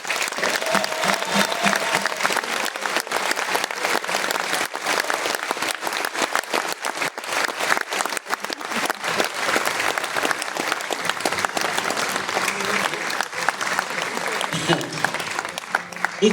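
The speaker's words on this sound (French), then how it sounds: "Je voudrais que vous applaudissiez," An audience at a concert in Bergerac, France, claps in a long, dense and loud burst of applause that holds steady throughout, with some voices mixed into the crowd.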